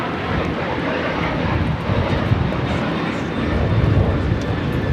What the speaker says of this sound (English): This is Delta Airlines 449 taking off to Nashville on the 737-800